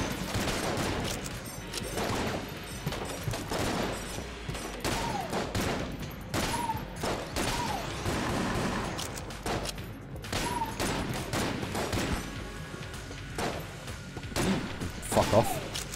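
Rapid gunfire in the video game Enter The Gungeon, dense volleys of shots and impacts in continuous bursts, loud and busy, with a player talking over it.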